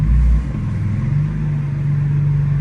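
Straight-piped BMW M4 idling right after start-up, a loud, steady low rumble close by with a brief heavier burst at the very start, no voices.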